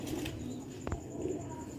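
Sialkoti pigeons on a rooftop give low, repeated coos, with a brief flutter of wings midway, fairly close and with no talking.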